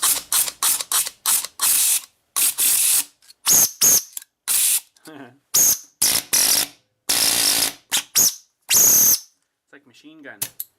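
An old impact wrench torn apart for repair, its ratcheting mechanism firing in rapid bursts of loud, sharp mechanical clatter with short gaps between runs, close by and dry.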